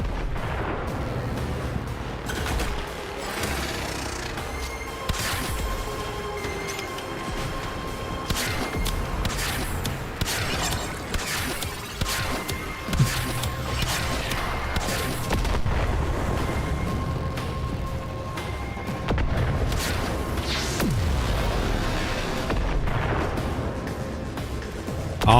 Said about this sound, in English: Awesome! All the explosions.